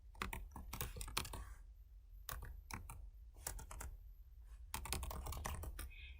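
Bursts of typing on a computer keyboard while setting up an admin account, rapid close key clicks in clusters separated by short pauses.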